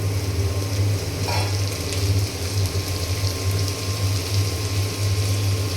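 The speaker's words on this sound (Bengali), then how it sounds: "এইখানে আমি আলু ভাজি করব।" Potatoes fry in hot oil with onion and green chili, a dense continuous sizzle with a low steady hum underneath and one brief scrape near the start, close and unbroken with no talking.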